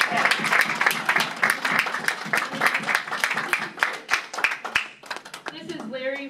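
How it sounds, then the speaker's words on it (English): An indoor audience gives veterans a round of applause, dense steady clapping that fades near the end as someone starts speaking. "Let's give them a round of applause."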